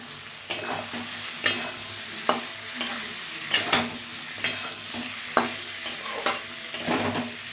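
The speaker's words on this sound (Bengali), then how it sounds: "আবারও একটু কষিয়ে নেবো ভালো করে।" Boiled papaya sautéed in spice paste and oil, a steady sizzle broken by about a dozen sharp spatula scrapes and knocks against the pan, close and fairly loud, with no voices.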